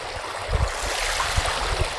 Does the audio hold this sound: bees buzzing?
no